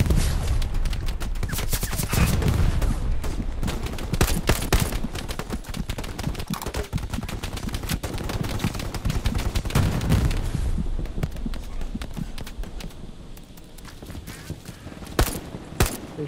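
Dense, continuous gunfire from rifles and machine guns in the World War II shooter Hell Let Loose, with rapid overlapping bursts and single cracks, some loud and close, others distant, filling the whole stretch almost without a break.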